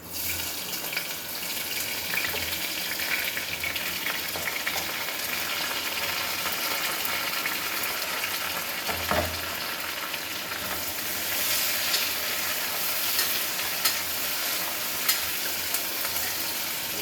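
Onions, green chili, mint and curry leaves fry in a hot pan, giving a steady, close sizzle with occasional stirring clatter and no talking.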